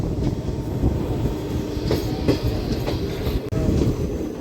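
A DEMU train runs on rails approaching Kurnool City station, a loud close rumble with rhythmic clickety-clack of wheels over joints and faint squeal, continuous throughout with no talk.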